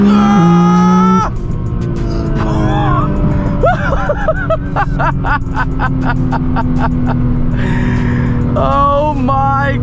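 A 1,200+ hp Nissan GTR is driven at full throttle, its engine a loud, continuous drone close by, while excited voices shout and exclaim over it.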